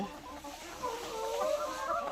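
Laying hens cluck softly in a short, quiet burst of rising and falling calls, heard faintly and alone.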